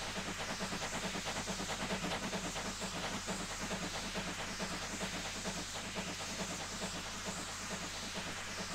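Steam locomotive in Train Simulator 2015 hisses steadily for the whole stretch, with a constant low rumble and faint rhythmic chuffing or rail clatter underneath.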